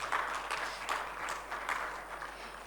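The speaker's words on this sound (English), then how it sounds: "May we please clap for her as she walks up to the stage." A conference audience at a microfinance tech summit applauds as a speaker walks up to the stage, steady moderate clapping from a fairly distant crowd throughout.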